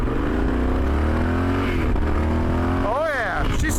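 A Yamaha Super Tenere 1200 adventure motorcycle engine idles loudly up close, then is blipped into a quick rising and falling rev near the end.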